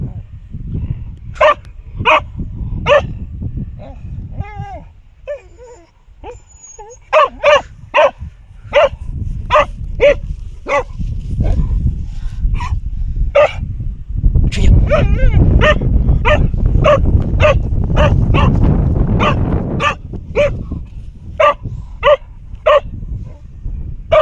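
A dog barks repeatedly nearby, sharp evenly spaced yaps in several bursts with a few whimpers, over steady background noise and occasional voices.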